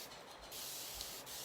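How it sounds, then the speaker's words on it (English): A spray bottle misting water onto a chalk couture board gives two quick close hissing bursts, the first longer, the second brief, with a soft rubbing noise before them. "So the first thing you want to do is you want to spray your board"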